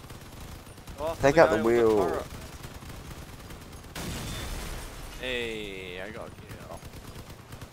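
Machine gun fire in the vehicle combat game Crossout on Xbox One, a fast rattling stream of shots running quietly beneath the mix while players talk over it.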